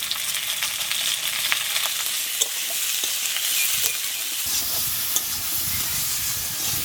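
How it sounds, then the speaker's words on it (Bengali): Ridge gourd and fried potato sizzle steadily in a pan, with scattered clicks and scrapes from stirring, close and continuous, with no talking. "এখন ওর মধ্যে কেটে রাখা ঝিঙেগুলো দিয়ে দেবো"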